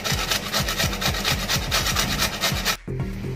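Turnip being grated into fine shreds with a peeler, heard as a close, steady, rapid rasping scrape repeated in quick strokes. The scraping stops abruptly near the end.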